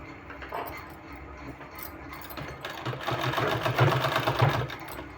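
Sewing machine stitching fabric for a neck design, a steady close mechanical whir with rapid needle clatter that grows louder and faster toward the end.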